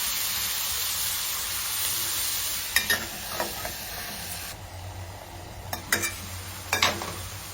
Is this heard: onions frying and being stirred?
yes